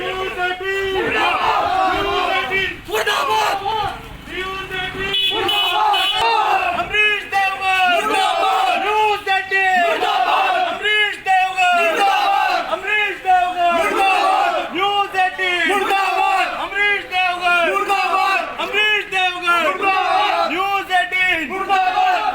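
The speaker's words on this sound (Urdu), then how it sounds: "نوجوانوں نے نیوز 18 کے جے پور آفس کے باہر نعرے بازی کی" Young protesters chant slogans outside the News18 office in Jaipur, a loud crowd repeating a rhythmic call-and-response chant over and over, strong and continuous throughout.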